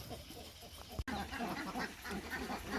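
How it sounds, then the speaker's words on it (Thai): A flock of farm-raised laying ducks quacks busily after being released from their pen, a dense overlapping chorus of nasal calls close by, with a sharp knock near the start. "ปล่อยเป็ดออกมาแล้วครับ"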